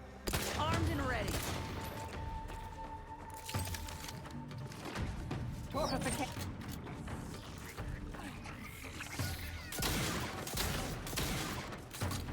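Shotgun blasts in The Outer Worlds 2 go off as repeated loud booms scattered through dense, noisy game combat sounds, with a player speaking at times.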